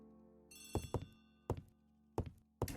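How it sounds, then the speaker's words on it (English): Telephone ringing in Agatha Christie: The ABC Murders, a series of sharp bursts, five in quick irregular succession, each with a bright metallic ring over a steady low background hum. "Poirot, the telephone."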